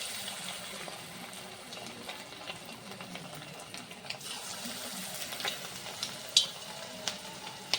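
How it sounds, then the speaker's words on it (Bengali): Small chicken pakoras frying in hot white oil in a kadai, a soft steady sizzle with light crackles and a few sharper taps near the end, without talking. "এখন আমি ছোট ছোট আকারে দিয়ে পকোড়াগুলো ফ্রাই করে নেব।"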